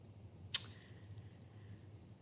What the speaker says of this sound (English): Clicking on my planner.